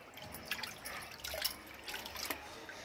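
New clay pots, soaked in water for a full day, are lifted out and shed a faint trickle and scattered drips, quiet and close, with soft irregular splashes.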